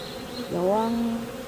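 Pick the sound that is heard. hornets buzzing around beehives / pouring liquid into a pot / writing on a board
hornets buzzing around beehives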